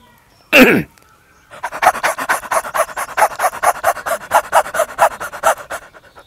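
A man imitates a dog panting as it runs, producing a fast, even series of loud breathy huffs up close after a single sharp burst at the start.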